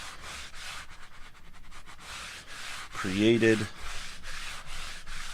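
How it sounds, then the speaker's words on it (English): A sanding block is run along the edge of a guitar to clean up burrs, giving a short, close abrasive rub that swells in the middle of the clip, with a bit of speech. "I just take my sanding block again and I just run it up the edge"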